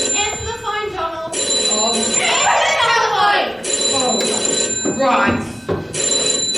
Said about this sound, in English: Answer the phone, Donald.